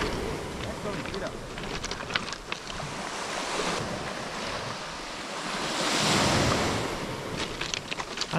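Sea waves break on a beach during surf fishing, a continuous broad wash of surf and wind that swells into a louder breaking surge near the end, with faint voices in the background.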